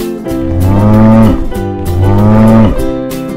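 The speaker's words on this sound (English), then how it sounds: "Cow." A cow moos twice in long, deep, loud calls about a second apart, each low bellow swelling and fading, with no voices around.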